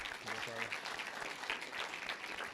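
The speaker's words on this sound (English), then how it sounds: "You can clap for him, too." Clapping from an audience at a school board meeting as a student high jumper is recognized, a moderate patter of hands mixed with a brief voice near the start.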